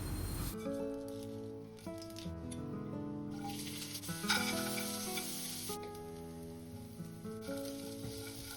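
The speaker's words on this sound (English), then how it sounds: "I'm adding the tadka so that it add the flavor to it" Tadka spices tempering in hot oil for idli chutney give a loud, continuous sizzle and crackle over faint background music.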